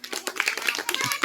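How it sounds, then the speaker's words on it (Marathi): Children clapping in quick, uneven bursts during a Marathi circle game, a close flurry of hand claps mixed with lively voices and chatter. "हा टाळ्या वाजायच्या मध्ये"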